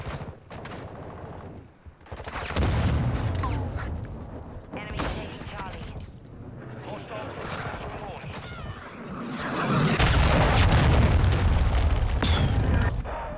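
Repeated deep booms and bursts of cruise missile explosions in Call of Duty: Modern Warfare multiplayer, loud and rumbling in two heavy waves with scattered gunfire between, voices talking underneath.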